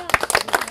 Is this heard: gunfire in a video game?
no